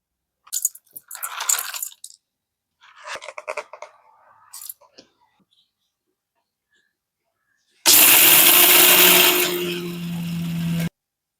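A kitchen mixer grinder whirs loudly for about three seconds as it grinds ingredients for a homemade preparation, starting abruptly after brief talk and staying steady and close until it cuts off.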